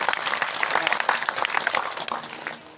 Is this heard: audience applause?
yes